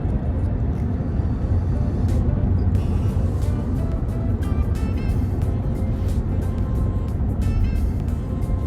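Inside a 2021 Kia Sorento EX Hybrid driving on a winding back road, a steady low rumble of tires and road noise fills the cabin, with faint clicks and ticks scattered over the constant hum.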